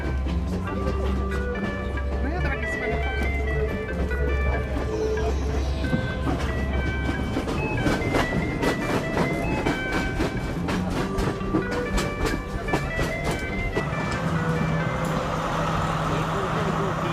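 A train rumbles steadily along the tracks with a continuous rolling drone, faint clatter and a low hum running throughout, travelling to Haputale in Sri Lanka's mountains.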